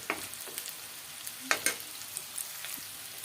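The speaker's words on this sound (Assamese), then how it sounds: "আমাৰ মছলাখিনি ভজা হৈ গৈছে" Masala frying in a pan for an Assamese duck curry with winter melon, a soft, fairly quiet sizzle broken by a few sharp scraping stirs and light ticks, close and with no voices.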